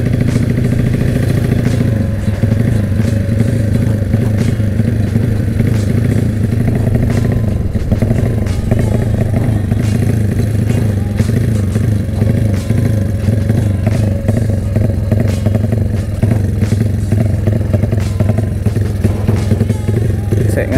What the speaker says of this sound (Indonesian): Motor rada galak lur.